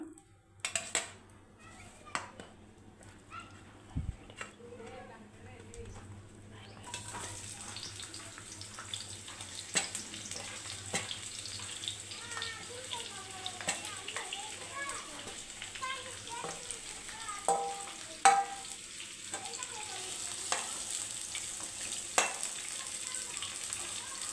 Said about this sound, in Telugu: ఆనియన్స్ అనేది బ్రౌనిష్ కలర్ వచ్చేంత వరకు మనము వేయించుకోవాలి